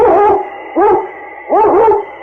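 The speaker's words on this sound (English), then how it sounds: "It's Yukon King, swiftest and strongest lead dog of the Northwest" A husky sled dog howls and yelps in a 1951 radio drama, three loud, close, wavering bursts in quick succession with no other sound.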